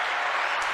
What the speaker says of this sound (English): I told you I was gonna hit that applause button again.